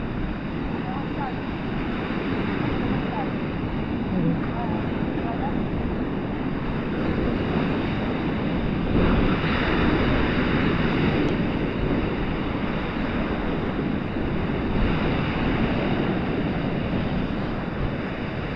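Continuous surf rolls and crashes with steady wind noise buffeting the microphone, a dense ocean roar throughout with no voices.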